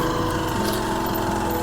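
A motorbike engine runs steadily while riding a rough mountain road toward Manang, a constant close, loud drone with a buzzing harmonic whine throughout.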